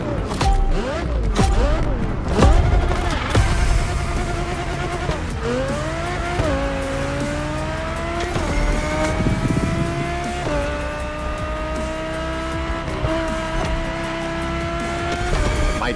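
Audi luxury racing car in The Crew Motorfest, engine revving loudly through repeated upshifts with rising pitch sweeps, tires squealing and skidding beneath it, close and continuous for the whole stretch.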